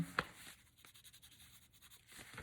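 Soft, rapid scratching of a pencil scribbling across paper, steady and close, with a small tap near the start.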